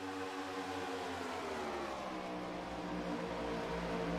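Race car engines in a sim racing game at Michigan give a faint, distant drone whose pitch climbs slowly, heard alone without talk.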